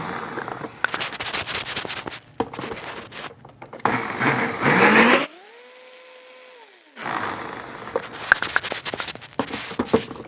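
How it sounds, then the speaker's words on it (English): A high-powered blender blending medjool dates into a thick applesauce-like purée, loud and close, running in several bursts with short stops and a rising whine when it spins freely. "And also make sure you have a high-powered type of blender here."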